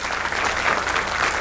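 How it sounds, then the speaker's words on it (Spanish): Loud, sustained applause from a crowd at a hotel inauguration ceremony, a dense, steady clapping that fills the whole moment without pause. "Repitimos otro aplauso bien fuerte para Fermín"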